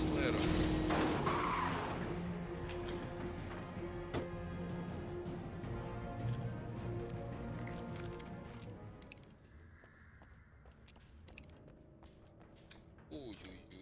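A car in the video game Alan Wake skids and accelerates at night, with loud, dense tire squeal and engine noise for about nine seconds before fading into quieter game sounds. Voices are faintly present.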